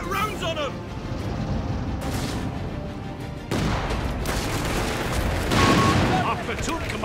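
Rapid gunfire and heavy blasts crackle through a Company of Heroes 3 battle, dense overlapping shots with a louder burst near the end, over a constant din of combat.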